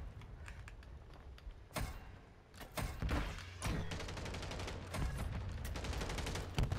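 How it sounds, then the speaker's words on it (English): Flash grenade bursts against the player in a first-person shooter game match, a sharp loud impact around the middle amid dense, chaotic gunfire and thuds, with heavy busy game noise throughout. "I just got hit in the face with a flash grenade"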